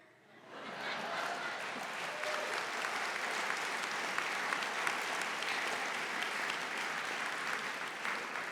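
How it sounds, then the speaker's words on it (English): Sustained applause from an audience at a business session of a conference, swelling in quickly and holding steady and dense throughout, with no speech over it. "You all don't really have to applaud for her."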